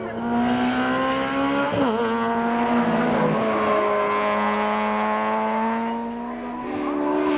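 Volkswagen rally cars race around a sweeping coastal circuit, engines droning loud and steady with shifting pitch as one car holds close and revs through corners, a brief dip as it eases off.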